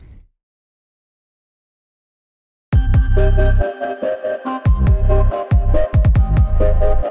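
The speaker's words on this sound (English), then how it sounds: "So let's go and apply reverb" After a few seconds of silence, a hip-hop melody with booming 808 bass starts in FL Studio, its notes washed in a spacious, echoing reverb tail.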